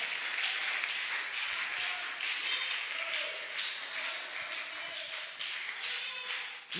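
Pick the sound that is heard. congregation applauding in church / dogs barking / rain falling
congregation applauding in church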